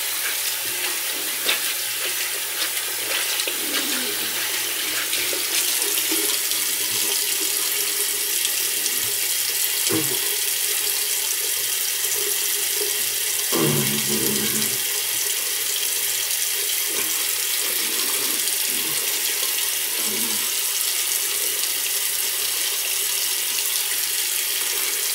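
A water tap runs steadily into a sink while a razor and face are rinsed after a wet shave, a constant close rush with occasional splashes and no voices.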